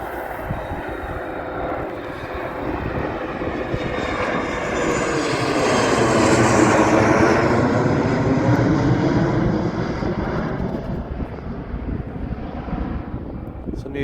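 An aircraft takes off at BAE Warton, its engine roar swelling from a distant rumble to a loud broad peak mid-clip as it passes, then fading away, with wind buffeting the microphone throughout.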